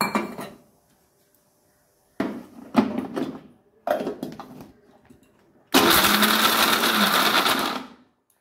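A kitchen blender grinds a paste for a paneer makhana gravy made without onion, garlic or ginger, first in a few short loud pulses and then in one sustained close roar of about two seconds.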